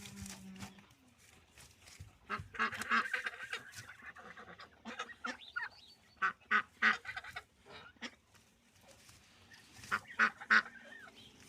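Two grey farm geese, a goose and a gander, honk in loud, repeated bursts, several short calls in quick clusters, fairly close, with quieter gaps between them.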